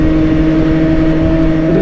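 A Suzuki Katana EY50 50cc scooter, rated at 45 km/h, runs flat out at full throttle, its small engine holding a steady, loud, buzzing drone with no letup, mixed with road and wind rush.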